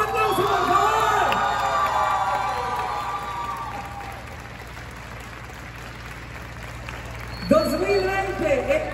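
Crowd at a Guinness record event in Irapuato for the world's largest strawberry agua fresca jar applauds and cheers loudly, mixed with whoops and shouts, while an amplified voice talks over the start and returns near the end.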